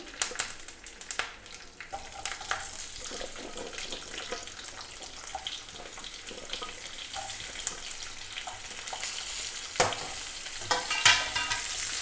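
Steady crackling sizzle of shallots stir-frying in a pan after curry leaves, with occasional stirring scrapes and clinks, close and continuous throughout.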